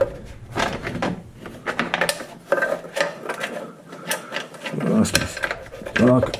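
Bolts on a Rugged Radio console mount are worked loose with a ratcheting socket, giving short bursts of ratchet clicks and metallic rattles between pauses, close by, with someone talking over parts of it.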